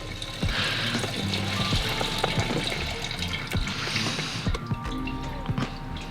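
Gasoline pouring and splashing back into a fuel tank, a gurgling stream with drips and sloshes, close by and moderately loud.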